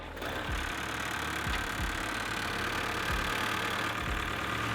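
A 1948 Willys Jeep engine running at idle, a steady low rumble with soft rhythmic thumps and a faint hiss, close and continuous for the whole stretch.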